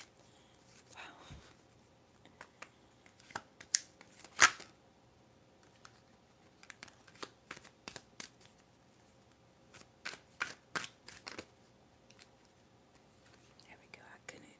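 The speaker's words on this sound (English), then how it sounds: "I couldn't shuffle those cards at all." Tarot cards being shuffled and handled in a quiet room, giving soft, irregular papery riffles and taps with a few sharper snaps, faint and close, alongside occasional whispering.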